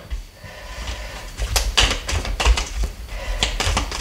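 A deck of tarot cards shuffled by hand, giving a rapid, irregular flurry of papery riffles and taps, fairly close and continuous over several seconds without speech.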